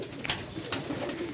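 Shahjahanpuri breed pigeons, a dark-green type, give soft, faint coos in a short burst of a couple of quick calls over a murmur of background noise.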